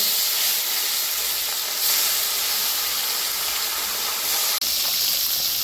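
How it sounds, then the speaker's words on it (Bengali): Bhola fish pieces frying in hot oil in a wok give off a steady, dense sizzle that holds at an even level without a break, with no voices. "এবারে আমি মাছগুলোকে এক এক করে ভাজতে দিয়ে দেব"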